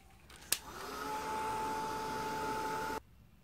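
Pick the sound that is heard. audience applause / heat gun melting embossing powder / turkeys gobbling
heat gun melting embossing powder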